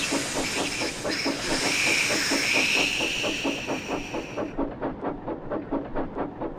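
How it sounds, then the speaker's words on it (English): A steam tank engine's safety valve hisses loudly over a steady rhythmic chuffing, then the hiss cuts off partway through while the regular puffing beats carry on alone. "steam hissed from his safety valve in an alarming way"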